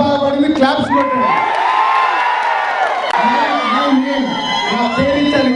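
A crowd at a film function for the movie Shatamanam Bhavati claps, cheers and whoops loudly, a sustained wall of shouting and applause with excited voices rising over one another throughout.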